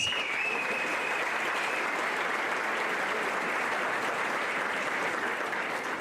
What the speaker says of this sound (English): Please join me in giving Scott and Michael a big round of applause.